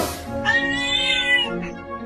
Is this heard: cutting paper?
no